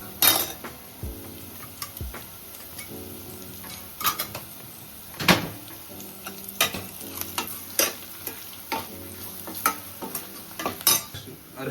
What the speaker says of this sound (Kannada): ಈಗ ಅರ್ಶಿನ ಹಾಕಿದ್ರೆ ಎಣ್ಣೆ ಒಟ್ಟಿಗೆ ಮಿಕ್ಸ್ ಆಗಿ ಒಳ್ಳೆ ಕಲರ್ ಬರುತ್ತೆ